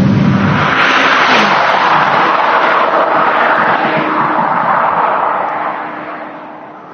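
Ferrari F40 engine revving hard toward 6,000-7,000 rpm, a loud, close, sustained roar that holds steady before fading away toward the end, with no talk over it.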